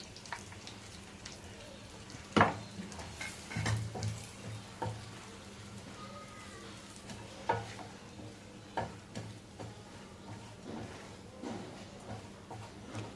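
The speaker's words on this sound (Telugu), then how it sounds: "ఇప్పుడు మనం వేయించి పొడి చేసుకున్న పల్లీల పౌడర్ అయితే ఇందుట్లో వేసి 1 నిమిషం అయితే మొత్తం ఫ్రై చేసుకోవాలి" Roasted ground peanut powder frying in a pan for lemon rice, with faint sizzling, soft ticks and occasional scraping stirs spread across a quiet stretch.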